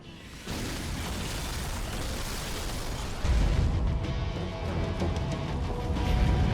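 Grenade blasts boom repeatedly in a Halo 2 firefight on Legendary difficulty, with dense rumbling bursts and a louder explosion partway through amid continuous gunfire and battle noise.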